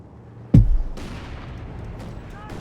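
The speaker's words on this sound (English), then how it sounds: "Machine gun there finding the premises suddenly getting a bit more explodey." A sharp, heavy blast from a Company of Heroes 2 World War II battle, followed by more distant gunfire and rumbling explosions fading under the din.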